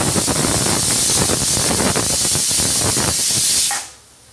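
Steam rushes from a pressure cooker in a loud, steady hiss, holding close and constant for several seconds before cutting off abruptly into near silence.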